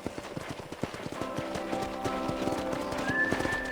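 Horse hooves clip-clop at a steady walking rhythm in the Western video game Red Dead Redemption, fairly close, with a brief whinny, music-like tones and ambient sound underneath; nobody speaks.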